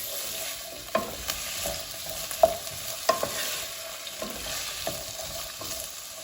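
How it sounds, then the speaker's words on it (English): Potatoes tumble into heated oil in a frying pan for tacos and get tossed and mixed, giving a steady sizzle with several sharp scraping and clattering stirs. "we're gonna go ahead and just toss our potatoes in. Give this a good mix."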